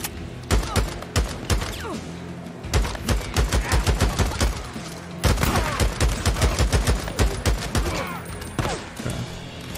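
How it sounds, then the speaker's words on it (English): Rapid bursts of gunfire in the Days Gone video game, dense volleys of shots crackling almost continuously over about ten seconds, loud and close, with brief pauses between barrages. "More shots."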